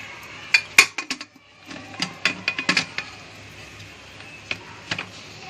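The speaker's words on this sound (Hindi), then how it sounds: "अभी ये ढक्कन लगा रही स्टिक के साथ।" Sharp metallic clinks and taps of a lid being fitted onto a pressure cooker, several close knocks in an uneven cluster, with no talking.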